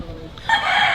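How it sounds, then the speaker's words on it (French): A rooster in the Philippines crows once, close and fairly loud, near the end of a short moment of background chatter. "Il y a un coq"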